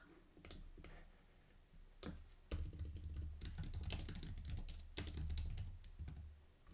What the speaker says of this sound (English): I'm going to start typing this in.